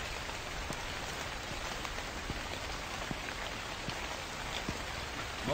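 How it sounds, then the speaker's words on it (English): Rain falls steadily in the video game The Convenience Store, a continuous hiss of drops pattering on surfaces with scattered individual drop taps, even and fairly quiet throughout. "no, this is an actual rain"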